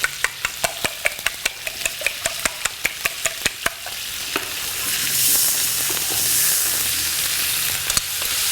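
Eggs fry in a pan for shrimp fried rice. A run of quick, regular clicks gives way to a steady, fairly loud sizzle with no talking.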